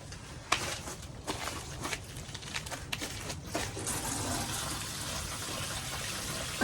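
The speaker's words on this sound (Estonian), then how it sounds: "Peab vett panema." Water splashes and trickles steadily while being poured onto freshly planted tomato plants in a garden, a continuous close wash of liquid with a few sharper splashes.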